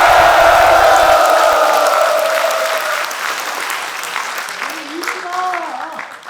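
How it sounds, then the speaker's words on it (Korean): A crowd applauds and cheers at the launch ceremony of a rural basic income coalition. The clapping is loud at first, fades over a few seconds, and then a voice speaks. "그럼 여러분의 박수와 환호로 이번 행사를 시작해 볼까요?"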